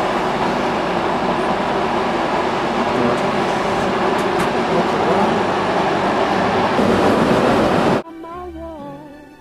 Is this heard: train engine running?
yes